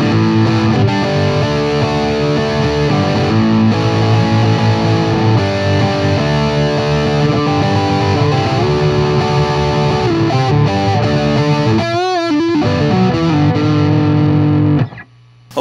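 A Paul Reed Smith Custom 24 electric guitar played through a Paul Reed Smith MT-15 amp with heavy distortion, a loud, close riff of sustained chords and notes with a brief squealing flourish before it cuts off.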